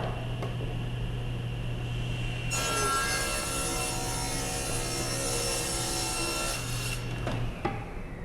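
A saw rips through wood to take off a stained groove for a clock part, a loud steady whining cut lasting several seconds over a constant machine hum, then winding down.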